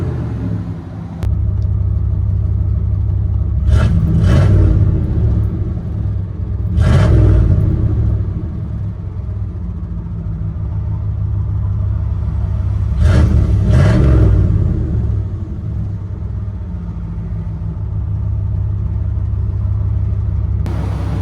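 A 1993 Chevy 1500 with a 454 big block V8 and straight pipes, idling with a deep rumbling burble and several sharp revs that rise and fall, close and loud.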